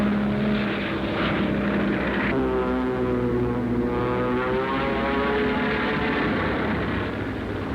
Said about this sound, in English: as the skies cleared, they were again filled with the long telltale trails of vapor as American bombers under heavy ack-ack fire